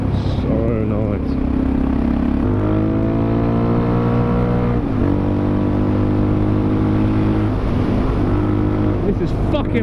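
A Suzuki DRZ 400SM motorcycle engine rumbles steadily while riding, its pitch rising through several gear pulls with brief dips at shifts, loud and close with constant wind noise.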